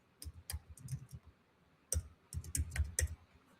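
Keys clatter on a computer keyboard in uneven bursts of typing, with a short pause in the middle, close and distinct, no voices.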